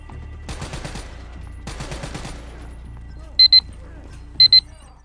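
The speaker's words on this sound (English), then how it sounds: "You heard the alarm go off." Electronic game alarm in Call of Duty: Black Ops 3, two short bright double-beeps spaced about a second apart, heard after bursts of rapid gunfire-like game audio over a low steady background.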